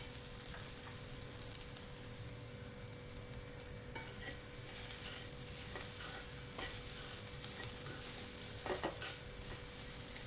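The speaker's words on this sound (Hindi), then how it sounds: "आलू को अच्छी तरीके से भून लीजिए।" Potatoes for an aloo patty filling are stir-fried in a pan over high heat, giving a steady sizzle under repeated scraping and stirring strokes from a spatula, close-up and continuous.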